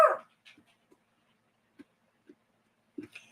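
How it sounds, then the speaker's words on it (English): A dog barks somewhere outdoors at night, giving a few soft, spaced woofs after an opening louder burst, faint and sporadic across the stretch. "I don't know what my dog's barking at."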